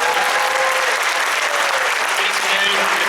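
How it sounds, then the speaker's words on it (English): Sustained, dense applause from a convention panel audience fills the whole stretch, loud and steady with a crowd texture throughout. "everyone give a warm round of applause"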